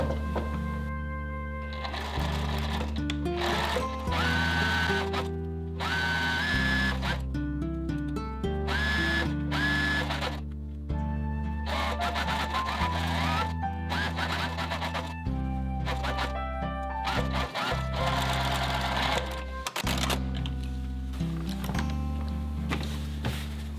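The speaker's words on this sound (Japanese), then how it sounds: "ポケット周りをミシンで縫います。" A sewing machine stitches around a fabric pocket in bursts of rapid mechanical stitching, starting and stopping repeatedly, close and loud with no voices.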